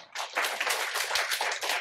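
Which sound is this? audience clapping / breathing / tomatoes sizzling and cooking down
audience clapping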